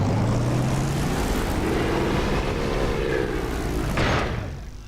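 A propeller aircraft engine in the DCS flight simulator drones loudly and steadily as the throttle comes up, a tone rising through the clip before a sharp clunk near the end.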